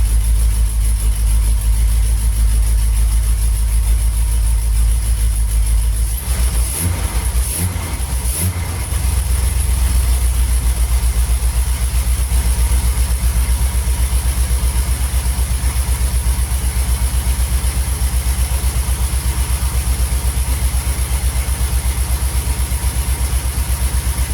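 A freshly rebuilt MK3 car engine, still cold, holding about 3,000 RPM with a loud, steady drone close by, briefly disturbed by a few knocks and dips before settling back into an even hum.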